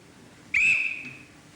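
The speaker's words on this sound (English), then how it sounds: "Then you ought to blow your whistle and say, now I'm me." A single sharp whistle blast starts abruptly mid-clip, holding a bright steady tone before tapering off over about a second against a quiet room.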